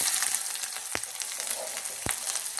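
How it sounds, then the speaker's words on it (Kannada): Garlic, curry leaves and half an onion frying in a pan for a dried prawn chutney: a continuous bright sizzle with two sharp scraping clicks of a spoon against the pan, close and without talk. "ಒಂದು ಅರ್ಧ ಗಡ್ಡೆ ಈರುಳ್ಳಿ ಹಾಕ್ಕೊಂಡಿದ್ದೇನೆ. ಫ್ರೈ ಮಾಡ್ಕೊಳ್ಳಿ."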